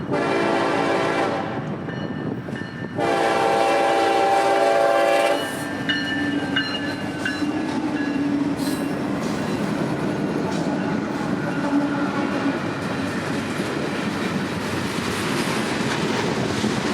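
A southbound ethanol freight train runs the S-line near St. Catherine, sounding its horn loudly for the first few seconds before a steady, close rumble of passing railcars fills the rest of the pass.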